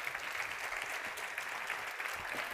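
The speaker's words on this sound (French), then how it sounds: "Applaudissements s'il vous plaît." An audience at a participative-innovation anniversary event applauds steadily, a thick, even roar of clapping hands that fills the short stretch without pause.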